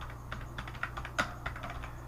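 Keys on a computer keyboard are tapped in a quick, uneven run of soft clicks, close and fairly quiet over a low steady hum, with no talk.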